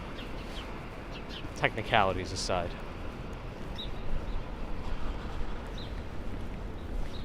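Birds on a windy Manhattan street chirp in a short burst of rising calls, with a few faint chirps afterward, while someone talks over steady wind and city noise.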